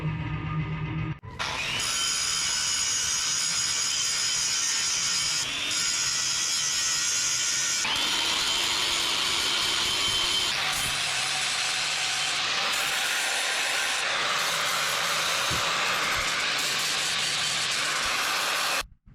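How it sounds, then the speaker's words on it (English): An angle grinder with a flap disc grinds and polishes steel caps for a firewood log rack, a loud continuous whine that shifts pitch as the disc bears down, running nearly twenty seconds before cutting off. "I'm going to grind these caps down, make them smooth"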